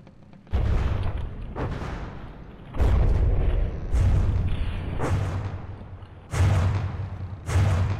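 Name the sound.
big gun firing explosive shells in From The Depths video game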